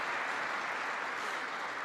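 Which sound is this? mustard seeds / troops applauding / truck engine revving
troops applauding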